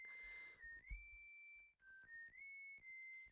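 A Mega Man video game whistle plays a faint, clear melody of held and sliding tones, lasting a few seconds with short breaks between notes.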